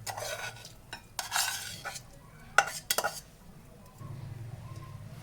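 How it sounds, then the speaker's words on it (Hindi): Batter being stirred into three beaten eggs for a Spanish omelette, with intermittent scraping and clinking of a utensil against the bowl in short bursts, close and fairly quiet, with a low hum near the end. "अब हम इसमें ये बैटर मिला देंगे जो हमने बनाया है"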